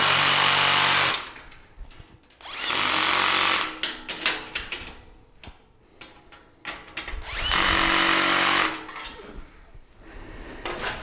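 Close, loud power drill runs in repeated bursts of a few seconds each, tightening bolts on a Vevor welding trolley, with brief pauses and clicks between runs.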